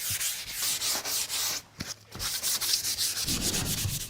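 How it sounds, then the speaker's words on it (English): Light hand sanding of a painted kitchen cabinet door with very fine sandpaper, rhythmic back-and-forth rubbing strokes close up, with a brief pause midway before the strokes resume. "It's vital to give it a nice gentle sand, only with a very fine sandpaper or a sanding pad."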